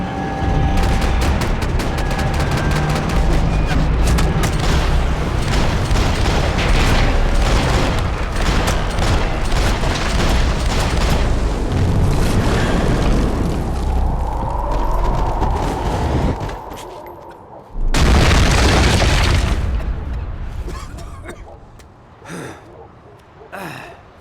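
Gunfire and explosions in the Max Payne 3 video game, loud and dense: sustained bursts of shots and booms, a brief drop, then another loud blast that fades out.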